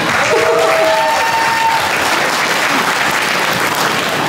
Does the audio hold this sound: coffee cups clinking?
no